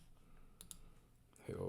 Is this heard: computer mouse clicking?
yes